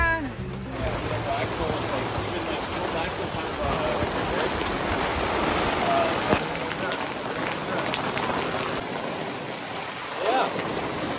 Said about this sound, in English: The rain basically just came out of nowhere